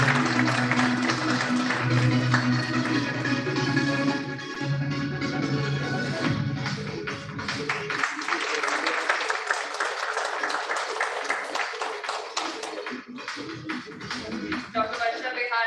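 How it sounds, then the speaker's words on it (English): Audience applause at a national conference award presentation in Pune, steady and moderately loud for the whole stretch, with a tonal voice or music layer under the first half. "round of applause"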